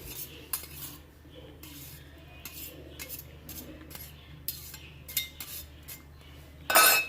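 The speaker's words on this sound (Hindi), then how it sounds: "ये अब हम इसमें मैक्रोनी शामिल कर रहे हैं।" Cooked macaroni is tipped into a bowl for macaroni salad, with a spoon clinking and scraping against the dish in scattered taps, ending in a brighter clatter.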